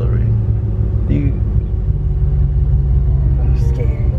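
A Mustang Cobra idles with a steady, loud low rumble as the driver eases on the clutch, the engine note holding fairly even while people talk over it.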